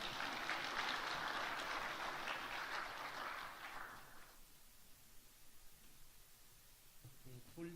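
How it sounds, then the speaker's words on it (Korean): A church congregation in a Korean worship service claps in dense, lively applause that carries for about four seconds, then fades out to quiet room tone with faint movement. "박수로 축하하겠습니다."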